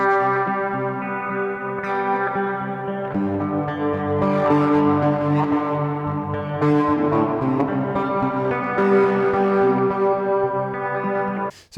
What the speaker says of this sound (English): And maybe run this through a nice reverb.